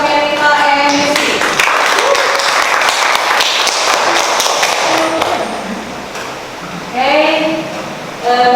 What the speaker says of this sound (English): Give applause for Saryanita and Yusi.